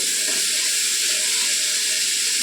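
Loud, continuous hissing sizzle of cabbage and capsicum frying in a hot pan for vegetable fried rice, a steady close crackle with no voices.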